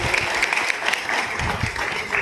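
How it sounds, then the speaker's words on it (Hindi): An audience at a Teachers' Day library event applauds, hands clapping in an uneven patter at moderate loudness for a couple of seconds, with a faint murmur of voices underneath. "चाहता हूं एक बार जोरदार तालियां शुभम के लिए लगाएं"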